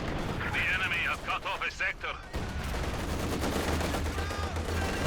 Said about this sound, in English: Second Katyusha does some good damage